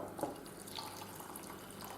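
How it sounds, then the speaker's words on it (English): Tea pours into a cup with a soft trickle and a few drips, fairly quiet and close, with no voices. "Now I'm going to pour this tea."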